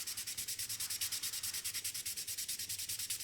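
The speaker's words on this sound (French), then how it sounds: "Donc on ponce." Sanding the body of a 1/24 Revell Ferrari California model car to remove a paint flaw: rapid, even back-and-forth rasping strokes, close and steady, about eight per second, with no voice.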